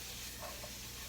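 Sliced vegetables for chicken fajitas tossed in a hot pan of seasoned oil, giving a dense, steady close-up sizzle with a brief stirring rustle in the middle.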